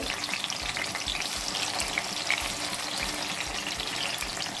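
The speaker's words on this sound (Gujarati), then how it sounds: "હવે તેલ ગરમ થાય એટલે એની અંદર આપણે આ રીતે ટામેટાને ઊંધા મૂકી દેવાના છે અને એને સરસ રીતે શેકાવા દેવાના છે" Tomatoes frying face-down in hot oil for a mango tomato chutney, giving a dense, continuous sizzle with faint crackles throughout, close and steady, with no one talking.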